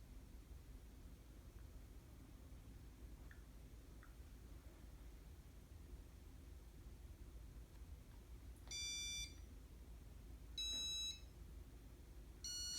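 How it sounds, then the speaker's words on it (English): Beeper of a Casablanca Spirit of Saturn ceiling fan in very bad condition sounds three short, sharp electronic beeps near the end over a faint, steady background hiss. "you can still hear the beeper."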